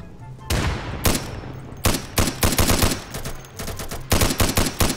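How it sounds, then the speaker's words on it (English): Rapid bursts of gunfire from the tactical shooter game Insurgency, with repeated close, loud volleys and short gaps, some automatic-fire rattles overlapping one another. "Someone's shooting at me."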